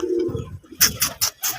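Pigeons give a low, soft coo, followed by several quick, bright fluttering bursts nearby, with no talking over them.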